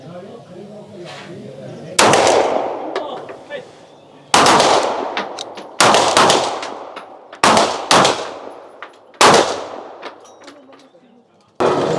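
A 9mm SIG P210 pistol firing at 25 m during a Swiss Feldschiessen shooting event: six loud, sharp shots at uneven spacing with echoing decays on an outdoor range, after a quiet stretch of background chatter.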